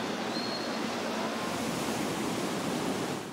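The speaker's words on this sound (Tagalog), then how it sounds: "Maya-maya, bumulwak na ang tubig sa kalsada galing sa binahang basement." Floodwater pumped out of a flooded basement gushes onto a street, a loud, dense, continuous rushing roar with no voices.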